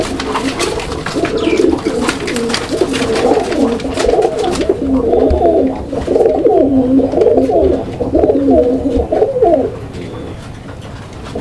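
A male pigeon, offered for sale with a guaranteed egg-laying mate, coos in a loud, repeated rolling rhythm up close, with other birds chirping faintly in the background.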